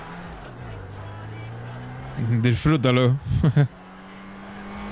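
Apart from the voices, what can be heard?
car engine revving and accelerating in a GTA roleplay video game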